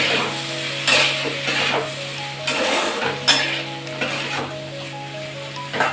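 Snake gourd frying in a pan, its constant sizzle broken by repeated scraping strokes of a spoon stirring it about once a second, loud and close.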